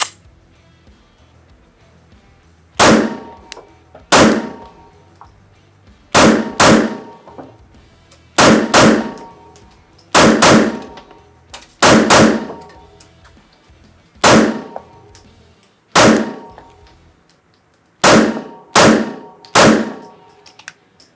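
A Rost Martin RM1C pistol fires about fourteen loud, close shots in uneven pairs and clusters, each a hard crack with a short ringing decay, and nobody speaks.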